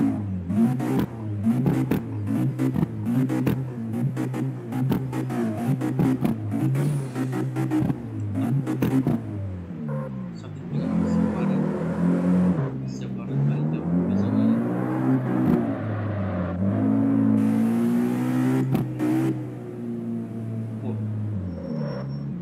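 In the CarX Street driving game, a car engine revs and accelerates through repeated rising and falling pitch sweeps, loud and close, with whirring gear changes and brief drops between pulls.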